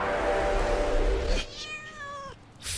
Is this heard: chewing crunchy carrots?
no